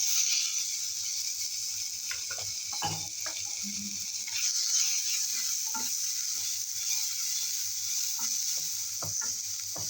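Steady sizzling and frying of onions in a pan throughout, with occasional scraping and stirring clicks from a utensil, close and continuous.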